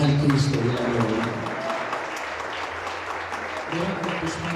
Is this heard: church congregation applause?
yes